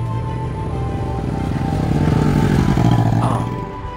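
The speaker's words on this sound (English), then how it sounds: "Its meaty engine can put some serious torque for an exciting drive." An engine hums and revs steadily for several seconds and swells in the middle. It is close and loud, with no talk over it, and is said to come from a Hyperion Wagoneer hybrid SUV being driven.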